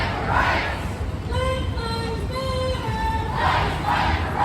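Outdoor crowd noise at a Pride Parade on the Oregon coast, with a dense wash of cheering and shouting voices, several sustained whoops rising above the mass, and the sound staying loud and continuous throughout.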